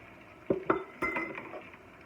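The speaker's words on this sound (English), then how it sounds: "Put your 2 cups of rice in." Two cups of rice go into a pot for Mexican rice with a few close clinks and a short rattling pour against the metal, with no voice over it.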